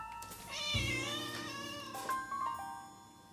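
A cat meows once in a drawn-out, wavering cry that rises and falls, followed by a shorter second call, fairly close but quiet, with no talking.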